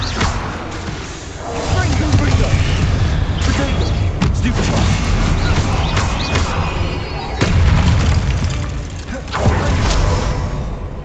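A Confringo fire spell from Hogwarts Legacy blasts into loud booming, crashing bursts that recur across the stretch, with rumbling impacts and debris clatter between them and a voice talking over the action.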